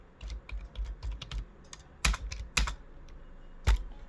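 A number entered on a computer keyboard: clear, close keystrokes in an uneven rhythm, with a few louder, heavier presses standing out, no voices.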